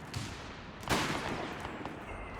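Mortar shells land on a field in Company of Heroes 3, with one sharp, loud impact bursting out of a constant rumble of distant battle.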